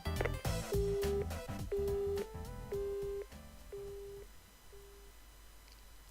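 A phone hang-up tone in a visual novel video game, a repeating series of short electronic beeps at a steady rhythm that fade in level, heard over soft game music that dies away.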